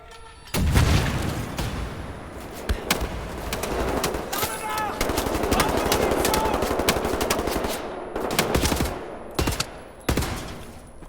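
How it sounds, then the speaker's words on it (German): Gunfire and a grenade explosion in the Wolfenstein: The New Order video game: rapid machine-gun bursts and sharp shots crackle throughout, with a heavy boom early on and German-speaking voices shouting amid the combat. "Vorsicht! Granate! Granate! Granate! Achtung!"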